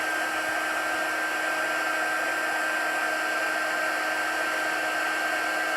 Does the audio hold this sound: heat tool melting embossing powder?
yes